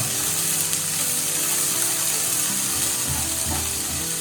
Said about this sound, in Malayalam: ശേഷം സവാള ആഡ് ചെയ്ത് കൊടുക്കാം നല്ലപോലെ ഇളക്കി കൊടുക്കുക